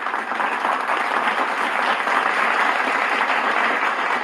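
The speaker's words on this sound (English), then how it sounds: "Give them applause." Steady applause from a crowd fills the whole stretch at an even, moderately loud level, a dense wash of clapping with no talking over it.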